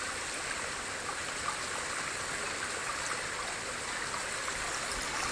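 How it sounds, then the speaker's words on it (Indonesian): A mountain stream and waterfall along a hiking trail, heard as a continuous, even rush of flowing water with soft gurgling and trickling, steady and fairly close, with no voices. "aliran air terjun"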